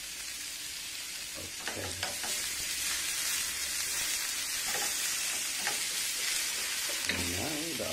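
Garlic and onion frying in a pan for tortang patatas, a steady close sizzle and hiss with occasional stirring scrapes and a brief word spoken.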